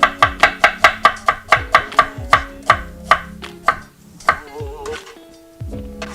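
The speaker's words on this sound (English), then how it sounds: "So I have gotten really fast at chopping shallots." A knife chops shallots on a cutting board in a fast, steady run of sharp thunks that slows toward the end, followed by a few scattered knocks and faint kitchen clatter.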